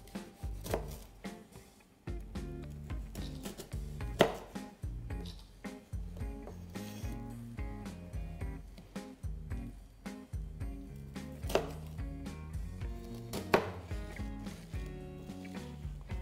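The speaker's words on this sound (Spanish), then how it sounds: "Tengo unas galletas de coco y wafer que las vamos a cortar en trozos" A knife cuts coconut cookies and wafers into pieces on a board, giving a series of irregular crunchy chops and taps with louder strikes scattered throughout, over faint background music.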